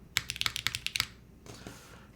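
Mechanical keyboard, an aalto, typed on without a key mat: a quick burst of about ten crisp, close clacks in a steady rhythm, then a short pause and a few softer keystrokes, with no talking.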